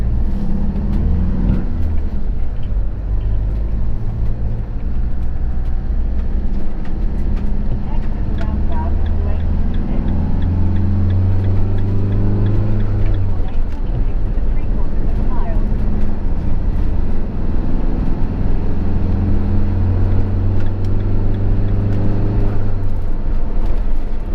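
Busy road traffic at a roundabout on the A46 toward Lincoln, with a truck circling ahead; steady loud engine drone and low rumble from nearby vehicles throughout, voices talking over it.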